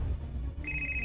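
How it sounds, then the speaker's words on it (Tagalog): A cellphone rings with an incoming call, a thin electronic tone that starts partway in and holds steadily over a low background rumble from a TV drama scene. "Og si James nasad ang nanawag."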